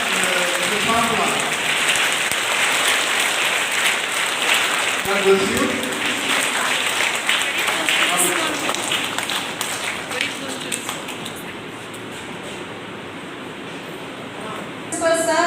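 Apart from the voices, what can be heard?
audience clapping for a kid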